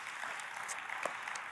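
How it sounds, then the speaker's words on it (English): Faint, distant applause from a church audience, a soft, brief patter of clapping heard at low level. "Why don't we give Anne-Marie a round of applause?"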